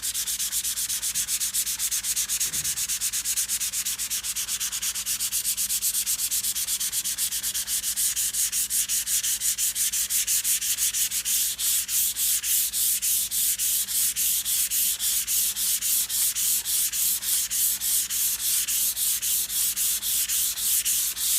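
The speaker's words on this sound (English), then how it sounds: "now I'm going to start sanding. This is a fine grit 220 sandpaper" Fine 220-grit sandpaper rubbed by hand over a painted desk with very light pressure, a steady, continuous back-and-forth scratching hiss, close and even throughout.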